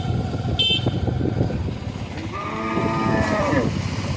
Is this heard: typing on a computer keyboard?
no